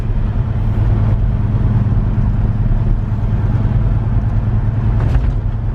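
A 1955 shop truck's engine rumbles steadily and close on a test drive, with a low, even road drone throughout.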